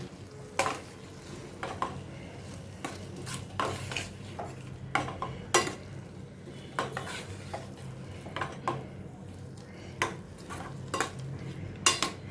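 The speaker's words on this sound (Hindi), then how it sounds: "धनिया पत्ती डाल के मिक्स करती हूँ।" Coriander leaves stirred into spicy, tangy potatoes in a pan, heard as intermittent scraping and clinking strokes of a spoon against metal over a low sizzle, with no voices.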